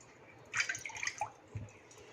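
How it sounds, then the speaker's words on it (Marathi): Water goes into a pan heating for rice-flour dough, a short, quiet pour with splashy bursts and a few drips and gurgles lasting about a second, close and without talk. "यामध्ये पाणी घालूया"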